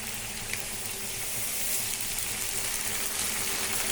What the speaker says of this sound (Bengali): এখন দিয়ে এটাকে মশলা কষাবো, দিয়ে দিচ্ছি।